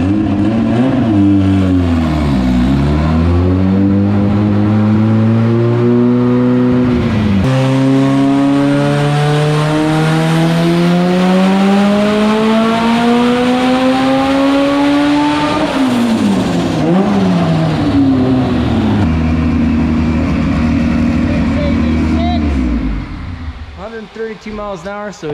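A 730 horsepower race car accelerating hard, its engine note climbing steadily through long pulls with brief dips at gear changes, loud and close throughout before fading near the end.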